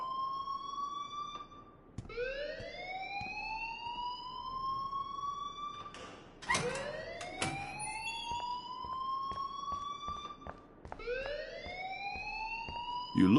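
Electronic alarm in Life is Strange, rising whoop-like siren sweeps repeating about every four to five seconds, loud and close, with a burst of clatter partway through and no talking.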